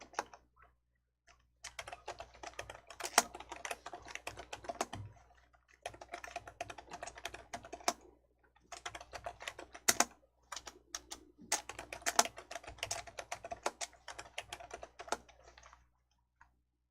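Typing on a computer keyboard during a Korean word-processing exercise: bursts of rapid, close key clicks in irregular runs, separated by short pauses, with no talk.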